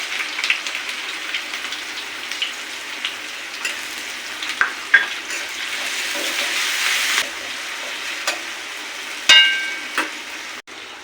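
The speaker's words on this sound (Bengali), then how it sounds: "এখন আমি দিয়ে দেবো কুচিয়ে রাখা বেশ কিছুটা পরিমাণ পেঁয়াজ কুচি" Chopped onions hit hot mustard oil already holding cardamom pods and two bay leaves, for a beef and eggplant curry. A steady, close sizzle runs throughout, with occasional clinks and stirring scrapes.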